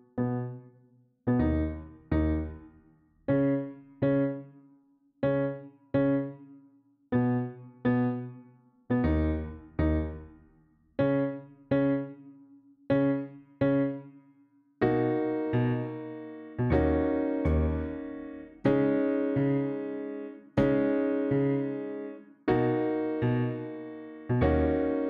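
Solo piano plays the first verse of a song as steady, evenly spaced block chords, then grows fuller and louder with sustained, richer chords in the second half, heard close with no voices.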